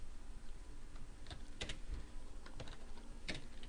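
Keystrokes on a computer keyboard while entering C++ code, a few separate clicks and short bursts, fairly close and soft over a quiet room hum.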